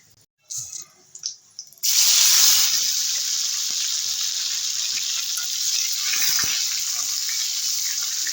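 Whole spices crackle and sizzle in hot mustard oil, a loud steady frying hiss bursting in after a couple of seconds of quieter kitchen clatter and continuing evenly to the end.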